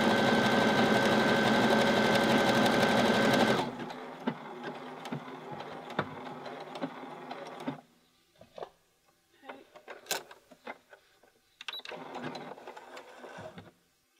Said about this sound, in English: press the start key, and then it will just sew everything all by itself